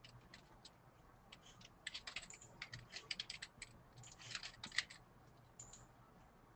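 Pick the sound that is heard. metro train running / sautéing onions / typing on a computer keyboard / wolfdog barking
typing on a computer keyboard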